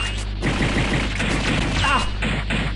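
Gunshots in The House of the Dead arcade shooter, loud and rapid under a steady game hum, with clattering impacts and a brief voice-like sound from the game.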